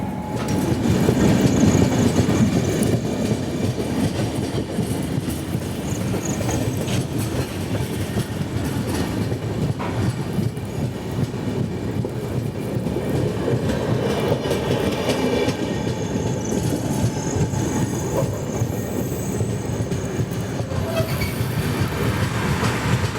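Ajanta Express 17063 running on rails, heard from on board as a loud, continuous rumble with faint wheel clatter and a thin squeal at times, steady throughout with no talk.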